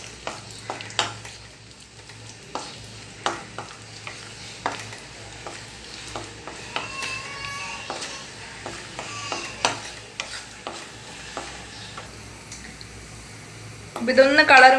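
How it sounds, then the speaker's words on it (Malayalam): Crushed cashew nuts fry in a pan with a soft, low sizzle and frequent small scraping and tapping sounds from stirring. A voice speaks at times, and a louder burst of noise comes near the end. "അണ്ടിപ്പരിപ്പ് ഞാനൊന്ന് ചെറിയ കഷ്ണങ്ങളാക്കി ഒന്ന് ക്രഷ് ചെയ്തെടുത്തതാണ്. ഇതൊന്ന് നമുക്കൊന്ന് മൂപ്പിച്ചെടുക്കാം."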